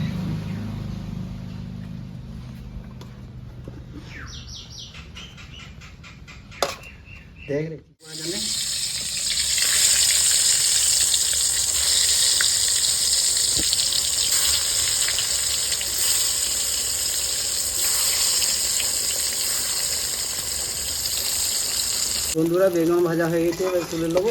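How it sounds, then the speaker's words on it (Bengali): Brinjal frying in hot mustard oil starts after a few seconds of softer kitchen noise and a brief clatter, then settles into a loud, continuous close-up sizzle that lasts to the end. "সর্ষে তেল দেবো আগে বেগুন ভাজা করবো"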